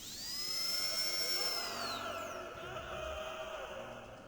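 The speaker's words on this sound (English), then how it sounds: "you'll hear a drill sound followed by a man screaming in the distance" A high whining drill in the Call of Duty Zombies map Verrückt, steady and piercing for a couple of seconds, then winding down in pitch, fairly faint and distant with a noisy rumbling backdrop.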